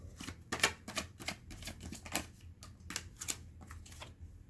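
Tarot cards are shuffled and drawn during a private reading, giving a run of crisp, papery riffles and slaps in uneven bursts, close and fairly quiet, with no one talking.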